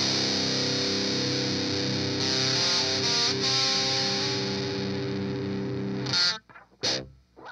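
An electric guitar played through a Cool Music Insane Distortion pedal rings out heavily distorted sustained chords, loud and close, then falls to a few short choppy stabs at the end.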